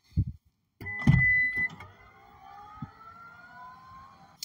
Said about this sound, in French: pour ouvrir le coffre, c'est très simple. On a simplement besoin d'appuyer sur un bouton sur la clé de la voiture